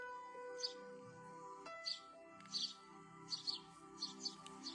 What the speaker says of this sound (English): Well, they're the magic birds.